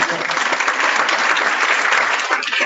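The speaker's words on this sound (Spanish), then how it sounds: "Dale un aplauso." Dense applause from a church congregation, loud and continuous throughout, with no voices clearly standing out.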